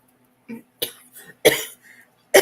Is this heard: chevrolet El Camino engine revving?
no